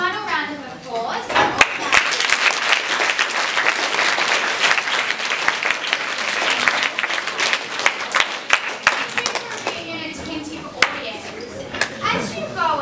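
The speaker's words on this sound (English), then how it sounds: "Okay, can we just have one final round of applause?" An audience gives a final round of applause at the end of a talk, with loud, sustained clapping filling the room for nearly thirteen seconds and a few cheers and voices mixed in.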